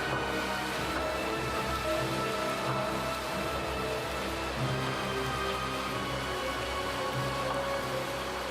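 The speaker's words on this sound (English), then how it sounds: "Heavy rain and strong winds had turned the sky white with rain." Heavy storm rain pours down steadily with strong gusting wind, a dense continuous roar that fills the whole scene, with no voices.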